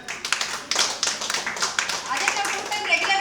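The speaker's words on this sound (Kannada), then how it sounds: "ಜೋರಾದ ಚಪ್ಪಾಳೆ." A small group claps loudly in an indoor room. The claps are uneven and overlap across the short burst, and voices talk over them.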